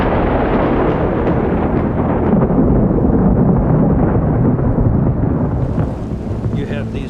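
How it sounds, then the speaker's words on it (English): A rare, catastrophic thunderstorm with heavy, continuous rainfall, heard as a loud, steady roar of rumbling thunder and pouring rain that eases slightly near the end. "in just a rare, catastrophic type of thunderstorm"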